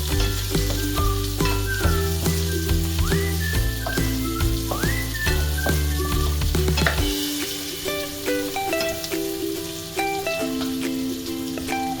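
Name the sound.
garlic and ginger frying in a pan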